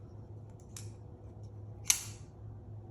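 Two sharp metallic clicks in near silence from a micarta-handled Vosteed Porcupine folding knife: a faint snap first, then a louder, crisp clack as the blade locks or closes.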